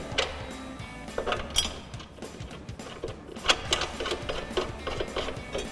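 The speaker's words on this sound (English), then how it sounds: "Grab your ratchet and tighten them down." A ratchet tightens two 18mm bolts with flat washers on a bumper bracket for a forged aluminium rear bumper on a Jeep Wrangler JL, producing a steady, rapid clicking close by with small metallic knocks, and nobody speaks.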